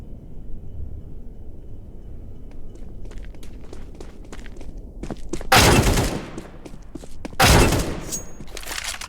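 Gunfire in a Roblox first-person shooter game, with two loud, dense bursts of rapid shots standing out over quieter scattered pops and a low background rumble.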